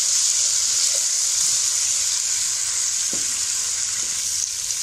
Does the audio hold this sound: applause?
no